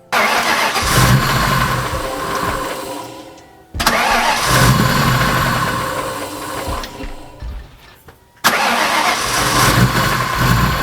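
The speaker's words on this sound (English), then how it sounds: "Only thing left to do now is crank it up, see if it runs any better." Car engine with a 4V swap cranks and fires up, loud and close, running rough and uneven, then cuts off abruptly and is cranked and restarted twice more, each time catching and revving under load.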